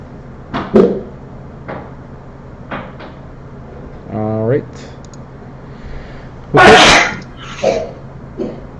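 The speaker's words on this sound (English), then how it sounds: "I heard a sneeze." A single sharp sneeze bursts out loudly during a chemistry class stream, amid scattered speech sounds and a few soft knocks.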